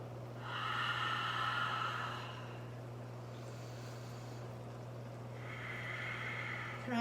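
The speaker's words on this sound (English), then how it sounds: "Take 4 breaths right here" Deep yoga breaths come close and quiet over a steady low hum: one long breathy inhale, a pause, then another drawn-out breath.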